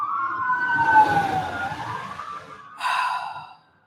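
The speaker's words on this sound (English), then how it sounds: "Look at the sirens in the back." A wailing emergency siren sweeps up and down in pitch, fairly loud and close, then shifts to a brighter tone before cutting off.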